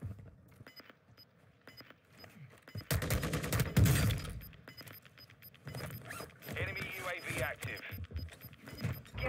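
Gunfire in Call of Duty Warzone 2.0 cracks in dense bursts of rapid shots amid game sounds and a steady electronic beeping, moderately close, while a player talks over it.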